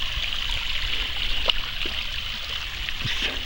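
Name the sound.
running water along a lake hiking trail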